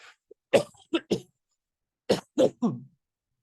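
A person coughs in two short clusters of three harsh bursts each, close and fairly loud, separated by a brief silence.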